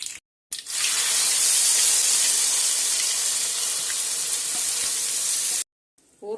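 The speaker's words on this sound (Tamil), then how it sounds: "கடுகு நல்லா பொரியுது." Mustard seeds crackle and splutter loudly in hot oil while tempering for an amla pickle, a dense continuous sizzle lasting about five seconds before cutting off, with brief quieter moments at either end.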